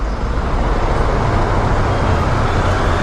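Dense road traffic in a jam caused by a concert in the Philippines, a continuous broad rumble of idling and creeping vehicles, loud and unbroken with no distinct horns.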